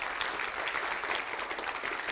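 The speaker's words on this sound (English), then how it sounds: "Please give a warm applause to the first speaker." A conference audience at a C++ programming event applauds the first speaker, a continuous, dense burst of clapping from a full hall lasting the whole moment.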